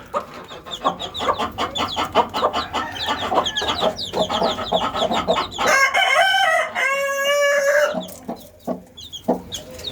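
Chickens and a rooster kept in a cage, rapid loud clucking and cackling from several birds followed by a long drawn-out crow, then more clucking, up close.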